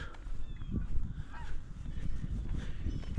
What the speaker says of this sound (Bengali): ওই যে হাঁস দেখুন উড়ে যাচ্ছে বড় হাঁস